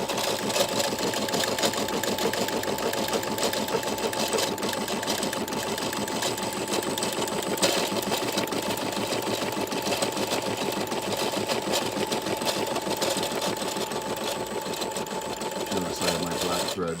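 A Brother SE400 embroidery machine stitches black thread in a steady, fast mechanical whir with a rapid even rhythm that runs close and continuous throughout.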